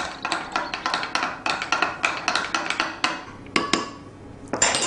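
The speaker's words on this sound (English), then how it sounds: "Just keep stirring until it dissolves." A spoon stirs sugar into liquid in a bowl, clinking against the sides in quick repeated taps and scrapes with brief pauses, close and fairly loud, with no talking.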